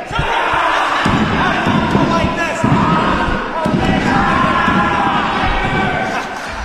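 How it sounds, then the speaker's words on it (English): Wrestling crowd at a bullrope match in Martinez, a loud continuous roar of voices and shouts filling the arena, with occasional thuds and slams from the ring and a commentator talking throughout. "But listen to that crowd here in Martinez"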